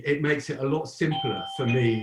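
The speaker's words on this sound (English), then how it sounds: "that's my doorbell now" A soft electronic doorbell chime sounds in the background, its tones sustained beneath someone speaking continuously in the foreground.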